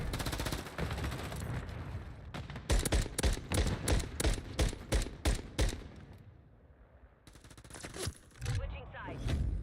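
Rapid automatic gunfire in the Warzone / MW3 video game, a burst of loud, evenly spaced shots in the middle, with further shots near the end over a busy game background.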